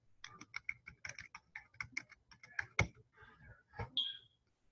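Quick, irregular clicking of keys on a computer keyboard as an email address is entered, close and fairly quiet, with no voices over the tapping.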